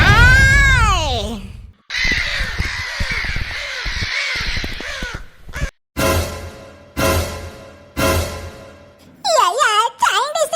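A crow caws repeatedly in a Tamil cartoon, several loud, harsh caws in a rough rhythm, mixed with animated character voices speaking.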